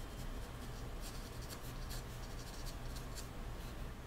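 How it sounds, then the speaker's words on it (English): An ink pen sketching outlines on paper makes soft, close scratching strokes in quick repeated bursts, faint and unaccompanied by speech. "So let's try to transfer this person to our paper using the ink pen"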